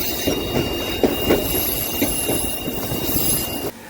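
The White Pass Railway excursion train rolls along with a steady rumble and rhythmic clickety-clack of wheels over rail joints, plus faint squeals, heard up close from the train throughout.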